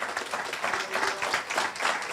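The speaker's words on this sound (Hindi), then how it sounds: "हम तालियाँ बजाएँ" A church congregation applauds during a Christmas service, a sustained wash of many hands clapping together with a rising and falling texture across the whole stretch.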